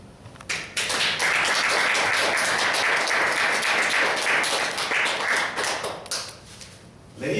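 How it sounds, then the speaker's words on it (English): An audience at a Toastmasters club meeting applauds appointment holders, with a burst of many hands clapping that rises quickly, holds loud and even for about five seconds, then thins out and fades. "Please put your hand together to applaud the appointment holders that I have just mentioned."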